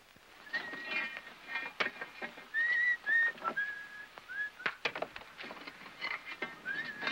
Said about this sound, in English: Hey, cut out that whistling.